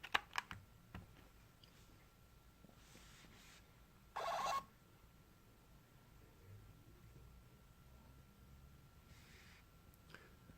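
Button presses on an Ingenico ICT 220 card terminal as a card is inserted, several faint plastic clicks early on, then a short buzzy beep-like burst midway, over quiet room tone with no talking.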